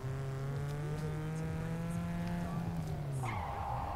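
Car engine droning steadily while driving in the Gangster Vegas video game, with a faint tire squeal and a shift into a higher whine near the end, continuous and fairly quiet.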